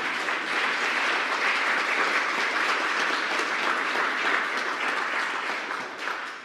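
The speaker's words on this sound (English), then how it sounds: "And that deserves a round of applause" A large audience applauding at a formal government remarks event, continuous dense clapping that holds steady throughout before easing slightly at the end.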